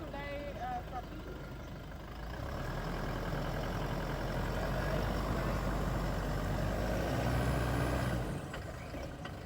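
A Toyota Hilux truck engine rumbles steadily off-road while the driver tries to reverse, the low drone swelling slightly midway and holding loud until it eases near the end, with people talking over it.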